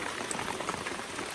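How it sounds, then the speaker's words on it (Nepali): Heavy morning rain on a hillside in Ghodabas, falling as a steady, dense broadband patter with no pauses and no voices. "यहाँ चाहिँ पानी परेर बिजोग बनाएको छ"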